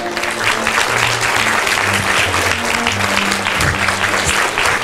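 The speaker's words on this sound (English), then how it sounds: "Please give both of them a biggest applause." Audience applause at an evening forum, a steady dense clapping from a crowd that carries loud and even through the whole stretch with no voices.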